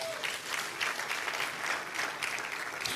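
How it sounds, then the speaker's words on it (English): Audience applause at a church or seminar presentation, a steady dense wash of clapping from many hands lasting the whole stretch, moderately distant and without talk. "Clap for yourself, first of all."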